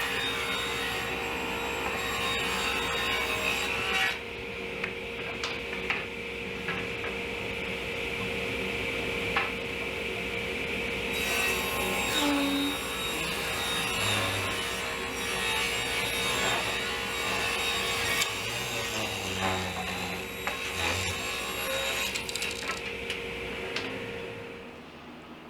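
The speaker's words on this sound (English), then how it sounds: "now I'm going to cut some 1x6 pine, and these are going to be for the runners for the frame" A power saw rips through 1x6 pine boards in a workshop, a steady loud whine broken by short pauses between cuts, with faint ticking and rubbing in the gaps.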